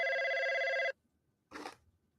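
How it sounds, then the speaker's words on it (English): A telephone ringing, one loud electronic ring lasting about a second, then silence and a short, softer noisy burst afterward. "Oh, the phone woke him up."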